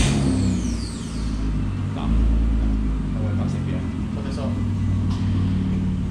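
Car idling with its stock muffler refitted on a 380 exhaust, a steady low engine rumble running throughout, with people talking over it.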